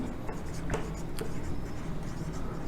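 Pen or chalk writing scratches steadily across a surface in a teaching setting, a continuous close scratching texture with no talk over it.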